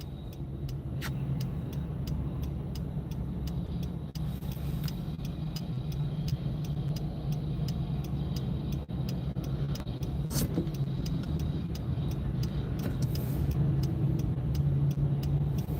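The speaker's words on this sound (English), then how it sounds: "Look at this traffic." Rush hour car traffic in Vancouver, heard from inside a vehicle: a steady low engine and road hum with a rhythmic turn-signal ticking and occasional clicks, continuous and moderately loud.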